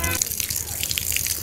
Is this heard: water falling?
yes